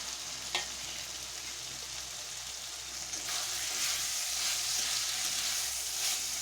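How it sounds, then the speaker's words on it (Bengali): Pre-fried small chiti crabs are stirred into a sizzling spiced onion masala for crab do pyaza, giving a continuous soft frying hiss with scraping stir sounds that swells slightly partway through. "মশলাটা আমি কাঁকড়াটার সঙ্গে ভালো করে মিশিয়ে নিলাম"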